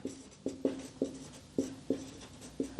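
A question statement being written on a board, heard as eight or so quick, close stroke taps in an uneven rhythm over a quiet room, with no talking.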